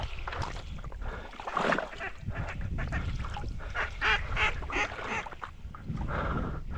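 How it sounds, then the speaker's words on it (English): Many ducks quack and geese honk in a busy, overlapping chorus nearby over water during a duck hunt, with wind noise rumbling underneath. "we got ducks all over us"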